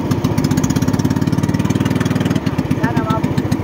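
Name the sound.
engine running after carburetor cleaning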